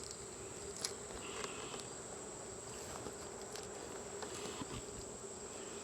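Honeybees swarm around an open hive during an August honey harvest, their dense, steady buzzing filling the air at close range, with occasional louder individual bees passing near.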